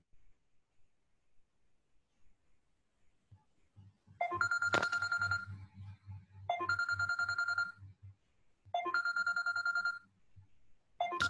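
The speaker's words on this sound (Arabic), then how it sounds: "لحظة شوية شوف تليفون" A telephone ringtone chirps in bursts of electronic trills, three rings spaced by short gaps, moderately loud against a faint low background hum.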